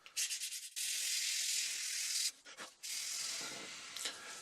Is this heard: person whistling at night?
no